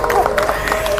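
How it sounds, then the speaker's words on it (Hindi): A crowd at a yoga session claps loudly and steadily for young yoga performers, with brief voices mixed into the applause. "एक बार सब बच्चों के लिए जोरदार तालियां बजा दो भाई"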